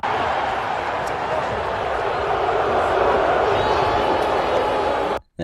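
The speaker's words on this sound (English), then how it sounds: "There, you can hear the boos." Dense wrestling arena crowd noise at a Becky Lynch match, a broad steady roar of massed voices that reads as sustained booing, loud and continuous before cutting off abruptly at the end.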